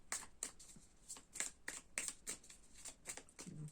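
Tarot cards being shuffled by hand, a quick rhythmic series of papery riffles and slaps, close and soft, with no voices.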